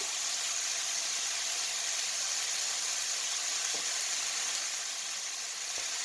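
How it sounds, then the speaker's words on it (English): Chopped white onion sizzles in a frying pan as part of chicken fried rice, a steady broadband hiss of frying that continues evenly throughout, with a couple of faint clicks and no talking. "This was just a white onion that I chopped up. So we'll get that in the pan."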